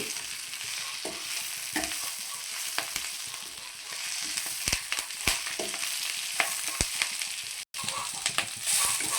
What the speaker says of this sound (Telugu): ఇప్పుడు ఈ నూనెలో బాగా వేపుకోవాలి